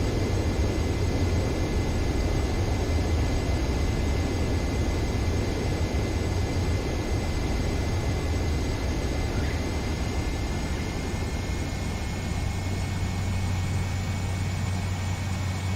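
Steady, loud jet-engine roar from an airplane landing in an Xbox flight combat video game, with a constant broadband rush and faint whining tones and no talking.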